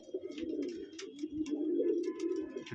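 A racing pigeon at a hobby loft coos steadily and close by, a low, continuous throaty rolling with no pauses, as it keeps near its mate while another pigeon approaches.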